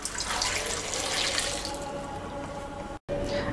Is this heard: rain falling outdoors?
no